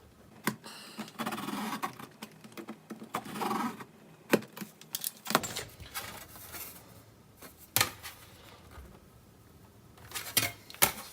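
A knife cutting through printed circuit board material produces irregular scraping and sharp clicks and taps at close range, with uneven bursts separated by quieter gaps and no talking.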